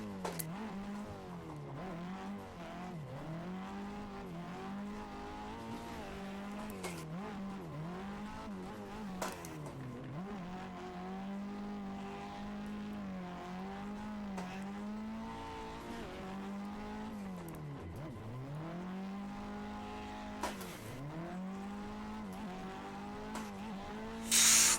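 A light drift car revs hard through corners at a tandem drift event, its engine note rising and falling steadily with tire squeal mixed in, loud and continuous throughout.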